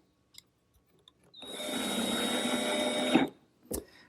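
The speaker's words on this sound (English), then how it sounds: "I'll remove the bulk of material freehand using my router and a straight cutting bit" A router with a straight cutting bit cuts freehand into wood for a hinge mortise, a loud steady whine for about two seconds after a few light taps, then a brief knock at the end.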